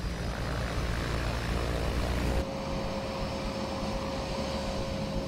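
Engines of a Grumman Mallard twin turboprop seaplane give a dense, loud droning roar that drops abruptly partway through to a quieter steady hum with a thin sustained tone.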